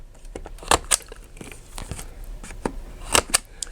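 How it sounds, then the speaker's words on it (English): Scissors trim the corners of a laminated sticker sheet, giving several crisp snips in uneven bursts, close and fairly quiet, with faint rustling of the plastic sheet between cuts. "you can just trim the corners with the scissors"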